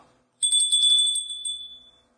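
A bright electronic doorbell chime rings once, a high ringing tone that sustains and slowly fades, with no voices.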